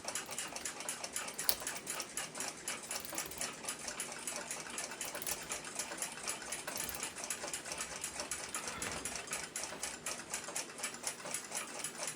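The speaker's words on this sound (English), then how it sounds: "Now to wind it up and get the mainspring retainers off." The mainspring of an 1897 Seth Thomas mantel clock movement is wound with rapid, continuous ratcheting clicks, close and steady for the whole stretch. No one speaks.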